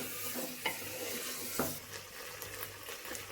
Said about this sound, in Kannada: ಅಕ್ಕಿನ ಹಾಕ್ಕೊಂಡ್ಮೇಲೆ ಒಂದ್ಸರಿ ಚೆನ್ನಾಗಿ ಮಿಕ್ಸ್ ಮಾಡ್ಕೊಳ್ಳಿ